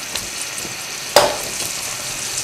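Tomatoes frying in a little over a quarter cup of oil in a kadai on full flame for keema kadai, a steady soft sizzle with a sharper clatter of stirring midway.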